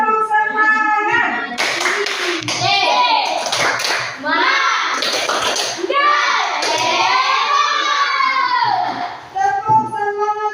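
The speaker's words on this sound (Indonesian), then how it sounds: "Ayo tepuk semangat." A group of participants in a classroom session performs a rhythmic spirit clap (tepuk semangat), loud patterned hand claps with voices chanting along throughout, close by.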